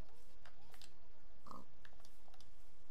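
A pig in the Minecraft video game lets out a single short grunt midway. It is fairly faint against soft background clicks that resemble typing.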